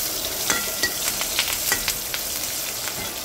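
Curry-leaf tempering sizzles steadily in a pan for turmeric pulusu, a dense hiss broken by repeated scraping stir strokes at close range with no one talking.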